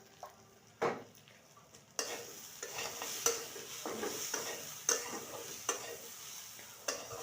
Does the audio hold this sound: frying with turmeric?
yes